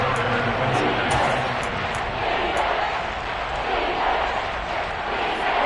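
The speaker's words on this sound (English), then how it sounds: "the crowd getting into it as we come up on a big 3rd down" A video game stadium crowd in Madden football roars in a continuous loud swell, rising and falling slightly, with commentary voices faintly under the noise.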